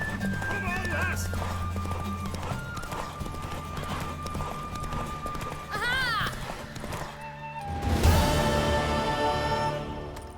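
In the video game The Witcher 3, a horse gallops with rapid clip-clop hooves and lets out several shrill neighs and whinnies, while people talk over the hoofbeats.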